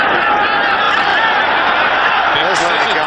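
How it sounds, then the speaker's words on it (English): A Dallas Cowboys home stadium crowd during a 1992 game against the Los Angeles Rams makes a loud, sustained roar of disapproval as the kicker comes out, with a commentator talking over it. "The crowd doesn't like it."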